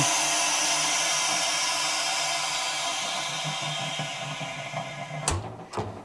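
A steady broadband hiss of air rushing in through a vacuum chamber's release valve, slowly fading, followed by a couple of sharp knocks near the end.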